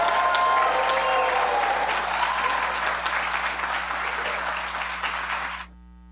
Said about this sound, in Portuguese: Uma grande e forte salva de palmas.